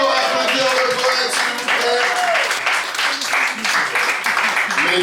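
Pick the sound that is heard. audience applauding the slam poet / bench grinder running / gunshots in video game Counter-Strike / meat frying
audience applauding the slam poet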